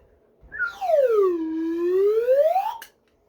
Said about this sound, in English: Well, of course, the expected. The slide whistle.